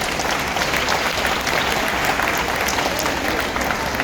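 Sustained applause from a cruise ship audience honouring a couple at a Sun Princess Elite Platinum event: dense, steady clapping filling the whole stretch at an even level, with no pause or voice standing out.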